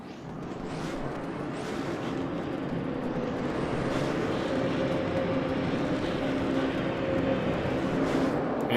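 Race cars roar off the line at the start of a sim-racing event at the Chang circuit, a dense, sustained engine drone that stays loud and steady throughout.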